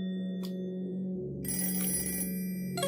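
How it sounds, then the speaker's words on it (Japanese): A telephone rings in a video game, repeated electronic bell trills starting after a soft tone, fairly clear over a low steady hum and quiet game ambience. "電話が鳴っている。"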